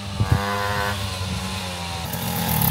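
A moped engine runs after carburetor tuning, a buzzy two-stroke drone heard nearby at moderate loudness, with a few sharp knocks at the start and a slight rise in pitch at the end.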